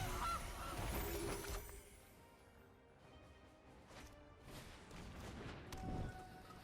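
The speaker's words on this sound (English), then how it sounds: "It's a goose." A goose honking in the distance, several rough, low-level honks scattered across the span against a hissy background, with no talk.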